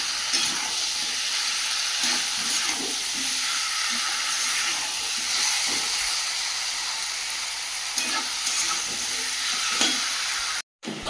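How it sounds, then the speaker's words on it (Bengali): Fried potatoes sauté in a hot pan, with a steady close sizzle and hiss and occasional soft stirring scrapes throughout. "ভেজে রাখা আলুগুলো দিয়ে দেব। দিয়ে ভালো করে কষিয়ে নেব।"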